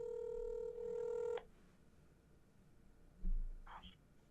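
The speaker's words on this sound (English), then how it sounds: "Greg Ashton might be cooking right now, so he might not pick up." A telephone call gives a steady electronic dialing tone for about a second and a half. It then cuts to near silence, with a dull thump and a brief faint tone near the end.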